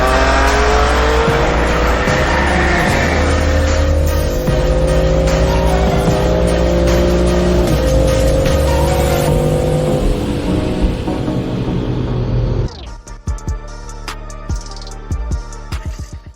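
A 620 HP stage 3 BMW M240i races hard and loud, its engine revving steadily through gear changes with tire squeal, then the engine note drops abruptly near the end into quieter idling and rumbles.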